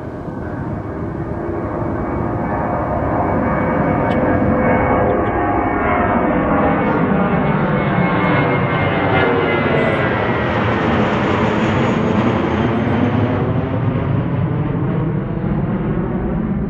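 An airplane comes in to land at Ronald Reagan Airport, heard from Gravelly Point Park as a loud, roaring jet whose pitch sweeps down while it passes close overhead and then fades, with no voices.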